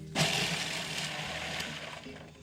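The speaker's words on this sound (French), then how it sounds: "On va pouvoir maintenant la terminer, c'est-à-dire la mettre au robot là, pour la mixer très fin" A food processor blends rabbit terrine mixture with liver to a fine paste, giving a short, steady motor whir that starts suddenly and runs without a break.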